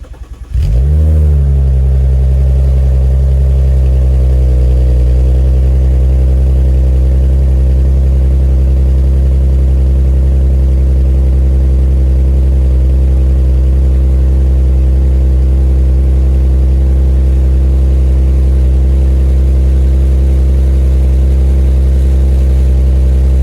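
An Audi A6 engine starts and settles into a deep, loud rumbling drone through a Magnaflow catback exhaust, sustained and steady with no talking.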